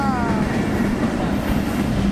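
A local train rumbles past close by, its steady, heavy roll and wheel clatter filling the whole moment, with a brief high whine at the start.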